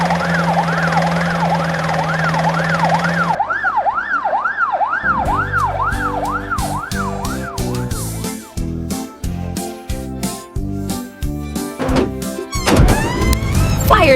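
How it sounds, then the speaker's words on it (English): A loud ambulance siren wails in rising and falling sweeps, shifting into a rapid repeating yelp pattern, with the horn-like blasts continuing near and prominent throughout. "Ambulance."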